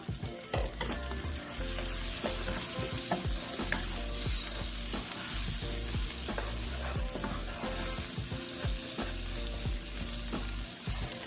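Tomatoes sizzle and fry loudly in a hot pan as a home dinner cooks, a steady dense crackle with scattered pops and stirring sounds throughout, no voices.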